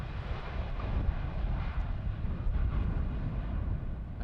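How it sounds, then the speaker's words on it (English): A Transavia Boeing 737 airliner arrives at Amsterdam Schiphol, landing on runway 18R in a crosswind, with a steady, loud, broadband jet roar that holds throughout without any talk. "Another 737 from Transavia."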